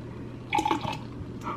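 Vinegar splashes into a homemade baking soda volcano, giving a brief liquid pour and fizzing spill of about a second, faint and close, with no talk over it.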